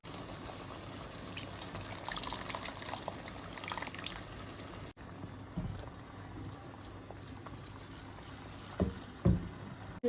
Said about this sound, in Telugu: ఇప్పుడు దీంట్లో పులుసు వేసుకోవాలి